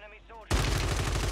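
Rapid automatic gunfire in the video game Warzone 3, a loud dense burst of shots starting abruptly after a brief quieter stretch where a voice is heard, then continuing as sustained close-range fire.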